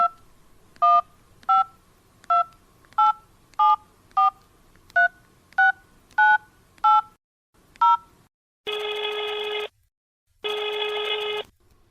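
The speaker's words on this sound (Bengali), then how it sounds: "আমি ফোন করছি।" A telephone number is keyed in as a quick run of about a dozen sharp touch-tone beeps in an uneven rhythm, followed by two long, steady ringing tones, with no voices.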